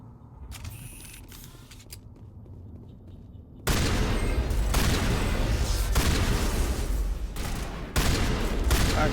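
Shotgun fire in the video game Mass Effect Legendary Edition bursts in suddenly after a quiet stretch, a loud, dense barrage of blasts and impacts that continues almost without break to the end.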